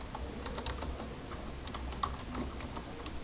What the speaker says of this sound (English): I'm going to type Malwarebytes.